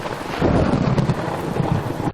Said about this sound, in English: The storm had gotten worse in the 10 minutes she'd been inside.